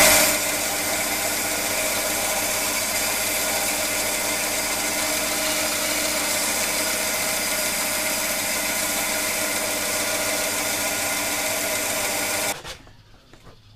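A power saw cuts through wood for a candle holder, a steady loud buzzing whine running unbroken for about twelve seconds before stopping abruptly.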